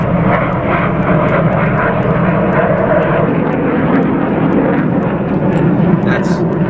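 A jet airplane takes off nearby with a loud, steady broadband roar that holds throughout, while people talk underneath.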